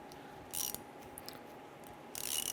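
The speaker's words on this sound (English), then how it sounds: "Use a 10mm socket. We want to go ahead and loosen that." A 10 mm socket wrench works a brake bleeder screw on a 2002-2008 Dodge Ram 1500, making two short bursts of close ratchet clicking over low background noise, with no speech.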